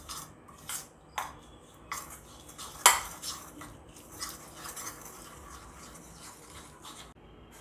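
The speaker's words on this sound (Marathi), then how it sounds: "आता यात मी 1 चमचा दूध टाकणार, आणखी 1 चमचा, आणि याला मिळवून घेणार" A spoon stirs milk into a crushed Parle-G biscuit mixture for modak, giving close, irregular scraping and light clinks against the bowl, with a few sharper knocks and no talking.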